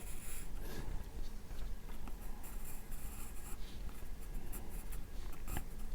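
A pencil shades a landscape drawing on paper, giving a continuous close scratchy rasp with rhythmic back-and-forth strokes that hold steady throughout.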